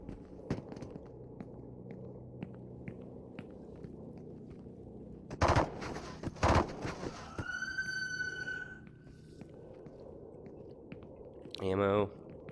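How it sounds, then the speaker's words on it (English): Gunfire from the video game Into the Radius: a few sharp shots ring out in two quick bursts midway, with a higher electronic tone and more clatter following, over a low, steady in-game background. "I can't tell where I'm getting shot at from."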